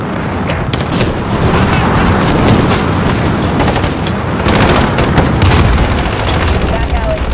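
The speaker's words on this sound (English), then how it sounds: "Precision airstrike available." Precision airstrike explosions in Call of Duty: Modern Warfare pound continuously, loud booms and rapid gunfire layered into a dense, roaring barrage with faint radio voices underneath.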